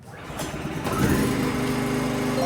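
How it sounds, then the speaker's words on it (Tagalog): A PK2300i inverter generator runs under a load test, its small engine buzzing steadily and rising slightly in pitch and loudness as the load comes on, with no talk. "So, i-load test na natin mga ka-Best Buys yung ating mga generators"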